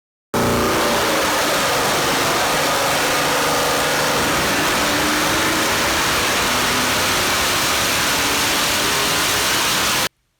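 A V8 engine fitted with LS3 cylinder heads, upgraded valve springs, a Holley HP ECU and the factory intake revs loudly and continuously at high speed for about ten seconds, then cuts off abruptly.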